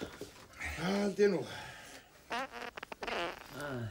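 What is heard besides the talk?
fart blamed on eating berries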